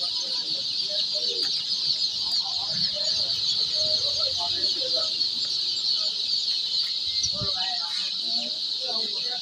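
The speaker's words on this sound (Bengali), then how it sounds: "টাইগার মুরগির বাচ্চা দেখুন, একদম ফ্রেশ বাচ্চা" A crowd of fresh tiger breed chicken chicks peeps nonstop in a dense, high, overlapping chorus, close and steady throughout, with occasional low thumps and faint background noise beneath.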